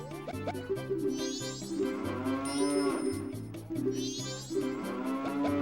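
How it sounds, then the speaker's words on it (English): Cattle mooing sound effects from the video game Majora's Mask, several long low moos in succession layered over game music with chimes, loud and continuous. "Even the cow sound effects of the boo."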